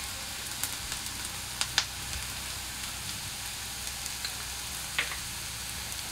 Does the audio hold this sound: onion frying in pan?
yes